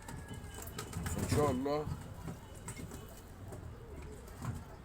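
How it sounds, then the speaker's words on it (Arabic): Egyptian Safi pigeons coo softly nearby, a few low throaty coos rising over a quiet background while someone speaks Arabic over them. "الحمام الصافي حمام مصر اصيل، ومن اقوى الحمام في العالم"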